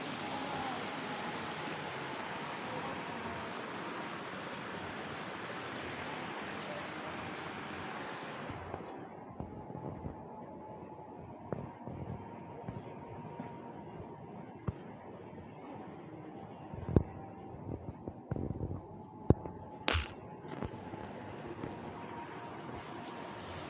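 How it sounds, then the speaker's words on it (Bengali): A water fountain in a garden near Riyadh's National Museum gives off a steady rushing splash that is loud for several seconds, then drops to a quieter wash with scattered small knocks and clicks. "খুব সুন্দর পানির ফোয়ারার শব্দ অনেক ভালো লাগে"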